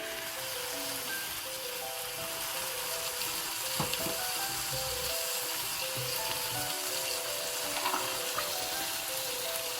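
Tomato sauce sizzles in a pan of vegetables for bulgur pilaf, a steady close frying crackle with occasional stirring knocks underneath.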